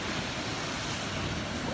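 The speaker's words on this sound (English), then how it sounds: "look at the freaking waves picking up" Ocean waves breaking on a Bali shore in Indonesia make a steady, close, full roar of surf, mixed with wind rush and no speech.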